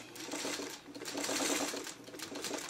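Stitching triangle fabric pieces together for a traditional quilt block, a sewing machine runs in a steady close whir for a few seconds, fairly quiet, with no voice over it.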